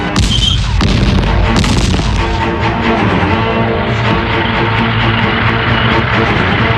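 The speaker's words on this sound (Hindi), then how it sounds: "इसलिए आर्टिलरी फायरिंग हो रही है, टैंक्स की आवाज को दबाने के लिए" Artillery fire pounds in a war film battle scene from Border (1997): dense, loud booms and blasts roll into one another over a constant deep rumble, with no pause.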